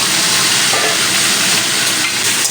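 Chicken pieces for Kolkata dum biryani fry in a small amount of oil, giving a loud, close, unbroken sizzling hiss that holds steady as they are stirred.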